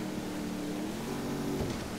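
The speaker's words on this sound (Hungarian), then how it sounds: "Igen, motorcsónak az egy kicsit gyorsabb." Motorboat engine in Grand Theft Auto V, a steady droning hum with a faint rising whine near the end, continuous and moderately close with no talk.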